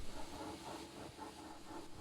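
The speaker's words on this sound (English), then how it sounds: "One day, Henry arrived with the first train." A steam train arrives in a Thomas & Friends story with a soft, steady hiss of steam and faint rhythmic chuffing in the distance, low and continuous throughout.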